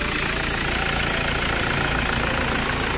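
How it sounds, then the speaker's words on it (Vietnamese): A Ford Transit engine idling smoothly, with a loud, steady, even running hum close by throughout and no voices over it. "Máy nổ êm."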